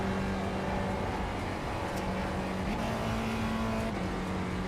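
A racing car in a sim racing video game revs its engine with a buzzing, reedy drone that shifts pitch as it changes gears, steady and fairly close throughout.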